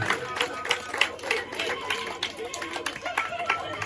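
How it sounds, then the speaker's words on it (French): Audience clapping at a school end-of-year party for a toddlers' class, a steady patter of many hands with scattered crowd noise and a voice over it. "Sous vos applaudissements."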